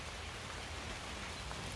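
Steady rain falls in a backyard, a soft, even hiss of drops on surfaces that stays faint and unbroken throughout.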